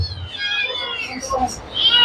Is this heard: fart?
no